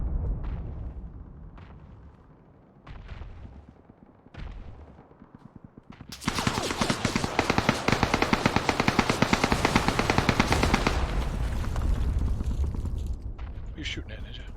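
In the video game PUBG, a few sharp isolated shots crack out first, then a sustained loud burst of rapid automatic gunfire roars for several seconds before tapering off, with voices talking alongside.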